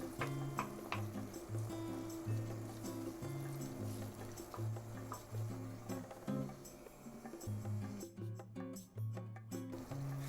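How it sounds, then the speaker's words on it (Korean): Crushed cherry tomato sauce for spaghetti allo scarpariello bubbles and sizzles in a pan, a close, continuous wet crackling with soft pops and spatters throughout. "토마토들을 이렇게 으깨가면서 소스를 끓여줍니다."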